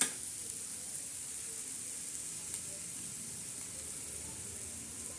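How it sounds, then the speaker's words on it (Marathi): Chickpea chutney ingredients, green chickpeas with garlic and green chilies, fry in oil with a steady, soft sizzle throughout, alone without talk. "चांगली अशी मस्तपैकी तळून घ्यायची लालसर होईपर्यंत"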